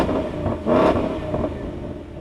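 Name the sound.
Ford Mustang engine revving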